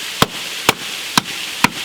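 Four sharp, evenly spaced cracks ring out as a baton strikes the back of a blade splitting dry firewood at a rainy wild camp, each knock loud and close.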